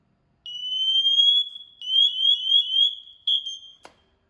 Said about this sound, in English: Now I'm going to manually set the alarm by pressing on the red button.